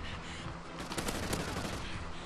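Rapid, dense gunfire from a muzzle-braked rifle in Call of Duty Ghosts crackles continuously, close and loud, its overlapping shots swelling in the middle and holding steady throughout.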